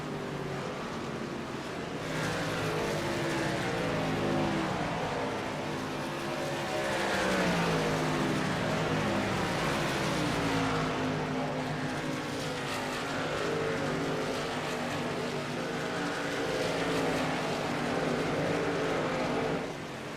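Pickup race trucks, a blue Wrangler number 55 and a number 76 F-150, roar around the Iowa track, engines droning loudly with rising and falling pitch as they battle close together.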